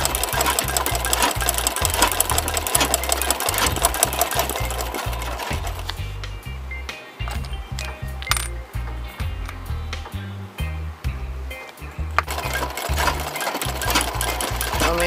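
Sewing machine embroidering a design on a dress shirt, a fast, steady mechanical rattle and thump that runs continuously, briefly slowing and stuttering midway before picking up speed again, close and loud.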